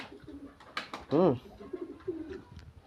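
Inside a hand-built pigeon loft, a single short, throaty coo rises out of a quiet, faintly murmuring background, with a few softer bird sounds around it.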